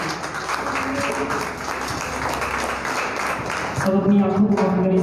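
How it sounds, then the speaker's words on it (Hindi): A crowd at a Christian prayer meeting claps loudly for God, a steady wash of applause under a voice speaking. "ताली बजाए जोर से परमेश्वर के लिए।"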